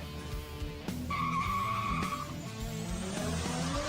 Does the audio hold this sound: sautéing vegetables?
no